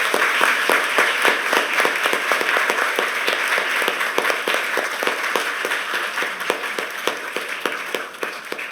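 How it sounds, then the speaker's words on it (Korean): A church congregation applauds at an ordination service, a dense steady patter of many hands clapping close by, holding evenly for about nine seconds with no talk. "축하의 박수를 부탁드리겠습니다."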